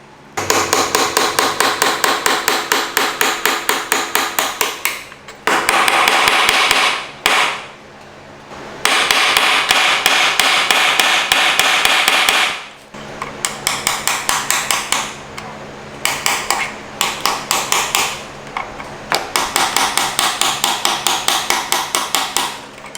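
A hammer strikes a punch against the worn rear wheel bearing of a wrecked BMW S1000RR motorcycle at 60,000 miles, loud rapid metallic blows in long bursts separated by short pauses.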